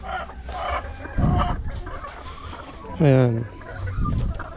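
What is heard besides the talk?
chickens clucking, egg-laying batch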